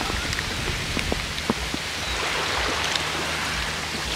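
Heavy rain pours steadily at a beach in Thailand, a dense continuous hiss with scattered droplet ticks and faint low rumble of surf underneath, no talking.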